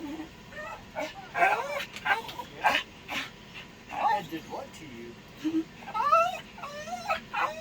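A dog whimpers and lets out high yips in repeated short bursts, close by, while people talk through and between the sounds.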